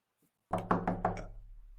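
Knocking on a door: four firm, evenly spaced raps after a brief silence, each hollow thud ringing briefly before the next, close and clear with no voices.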